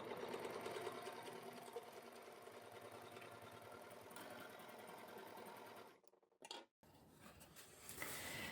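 An overlocker runs continuously as it sews a right angle corner in fabric, a fast mechanical whir with rhythmic ticking that stops abruptly near the end, gives a brief burst, then starts again.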